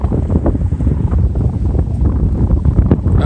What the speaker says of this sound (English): It's kind of windy up here.